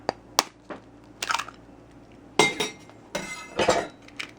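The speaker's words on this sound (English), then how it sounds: "I like to crack eggs on a knife like this." Eggs cracked against a knife edge for gluten-free bread pancakes, several sharp cracks and clinks spaced apart with brief crunchy shell noises between them, close and fairly loud.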